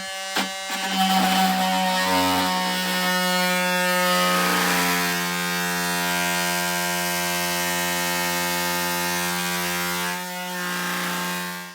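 A power tool drives fasteners into a plywood wall to mount a MrCool mini split heat pump, a loud close whirring buzz held almost continuously after a brief start, with a short dip near the end.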